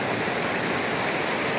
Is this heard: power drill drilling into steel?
no